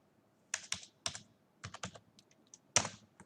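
Computer keyboard typing input into a Python program: a few quick clusters of crisp key clicks with gaps between them, close and quiet, without talk.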